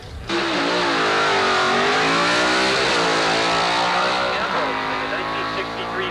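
Antique drag race cars roar down the strip at Carlsbad Raceway, engines loud and sustained with sweeping pitch changes as they accelerate, while an announcer talks over the noise.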